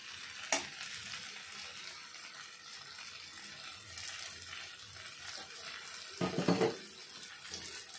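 Curd being stirred into hot rice for veg paneer biryani: brief scraping bursts near the start and again toward the end, over a soft, steady sizzle with no talking.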